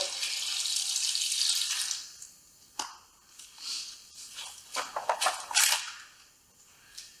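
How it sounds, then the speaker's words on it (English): Cup of water poured over hot laminating resin in a metal tin, a steady splashing pour at first, then a few sharp clinks and bursts of gurgling and fizzing, close up with no talk. "to pour a cup or two of water on top of it."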